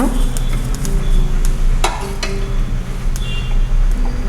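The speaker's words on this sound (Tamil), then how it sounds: "இப்போ நான் அதை வறுத்துட்டு தோலை ரிமூவ் பண்ணிவிடுவேன் இதை கொஞ்சம் நல்லா வறுத்துக்கலாம் இப்போ வேர்க்கடலை நல்லா வறுபட்டுடுச்சுங்க" Peanuts dry-roasting in a pan are stirred steadily, with scraping and rattling against the metal and a few sharp clinks, loud and close, with no talk.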